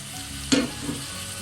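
Tomato goes into hot, roasted spice powders in a pan for brinjal masala curry, setting off one sudden burst of sizzle that quickly settles back into a soft, steady frying hiss.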